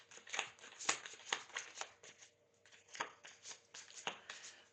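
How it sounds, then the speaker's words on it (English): Tarot cards are shuffled by hand in a quiet room, a series of soft, crisp riffling flicks and slaps in uneven bursts, close and faint, with no talking. "I'm not having much luck with shuffling them this way to pull cards."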